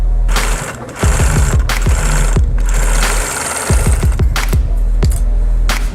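Sewing machine stitching a wallet from recycled fabric, loud close mechanical whirring in fast rattling runs with brief pauses, over a low steady motor hum.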